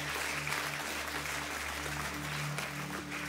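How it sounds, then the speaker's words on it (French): A church congregation claps steadily and warmly, a continuous, even layer of many hands over a low background hum, without voices on top. "applaudis de tout ton cœur"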